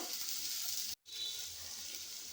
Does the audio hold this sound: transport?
no